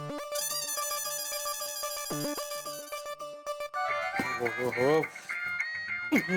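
A mobile phone plays a bright, repeating melodic ringtone for a few seconds in a family home in an Indian sitcom, then people start talking over it.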